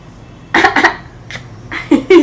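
A child with a cold coughs in several short, sharp bursts, two quick ones then a pause and a few more, close and fairly loud.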